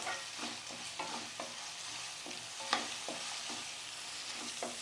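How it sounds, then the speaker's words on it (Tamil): Tomatoes sautéing in a pan for poha upma, a spatula scraping and stirring in a quick uneven rhythm over a soft continuous sizzle, close and fairly quiet, with no voices. "தக்காளி நல்லா வதங்கி வந்துருச்சு."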